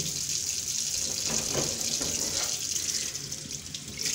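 Cold tap water runs steadily from a faucet into a sink while glass bottles are washed, a continuous close hiss of flowing water with no talk.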